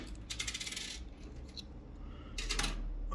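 Coins clatter down inside an arcade coin pusher machine in two distinct metallic cascades, one early and one near the end, with machine hum underneath.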